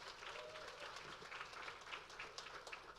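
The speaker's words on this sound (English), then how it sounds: "Give them a warm round of applause." Faint, distant audience applause at a Black History Month showcase in Brooklyn Park, a soft, even patter of many hands clapping throughout.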